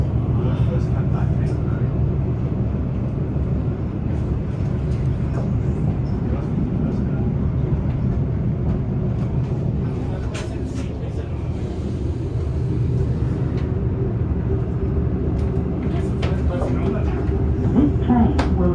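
A Mariyung D set electric train runs on the South Coast line, its broad low rumble and rolling hum filling the whole stretch close by, with people chatting over it and scattered clicks and clatters.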